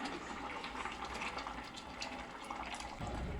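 Water poured into a pot of simmering sambar with dal (lentils), a steady, fairly loud splashing gush that runs the whole time and swells toward the end.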